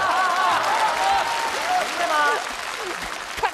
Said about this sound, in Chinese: 能不能从前到后来点掌声啊